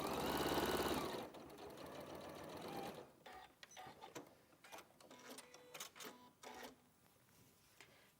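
A sewing machine stitches during a live sewing demonstration, a loud steady mechanical whir for the first second, followed by quieter scattered clicks and handling sounds.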